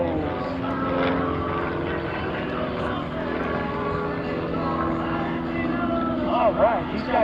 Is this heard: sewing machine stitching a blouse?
no